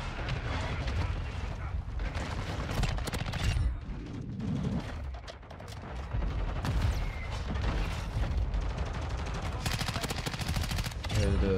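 Shotgun fire and surrounding gunfire boom through a Call of Duty: Modern Warfare II Season 3 match, loud irregular bursts with a short lull midway and faint voices mixed in.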